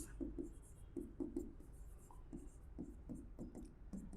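Pen writing on paper in short scratchy strokes, close and faint, falling in uneven bursts with small gaps between them.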